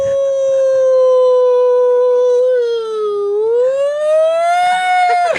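A human voice imitates a fire truck siren with a long, sustained wailing tone that holds, dips and rises again, loud and close, with no other sounds around it.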